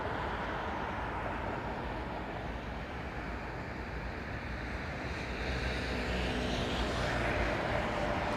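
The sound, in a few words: airliner decelerating on the runway at London Heathrow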